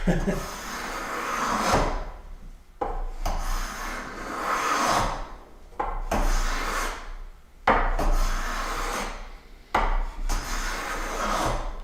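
A hand plane takes thin, full-width shavings off wood on a workbench, making several long rasping strokes in a steady rhythm, close and fairly loud, with short pauses between passes.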